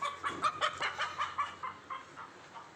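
A broody village hen that has just laid an egg clucks in a rapid series of short notes that slow and fade toward the end, fairly close.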